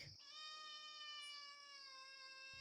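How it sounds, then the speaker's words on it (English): A cat stuck in a garden rose bush gives a single long, drawn-out meow, close and clear against a quiet background, with short soft rustles at the start and end. "Oh, a cat."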